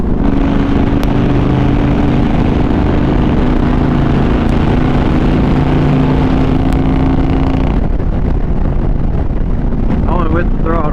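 A motorcycle engine held under steady throttle on a highway, a loud continuous drone with strong wind rush that drops sharply near the end as the rider eases off.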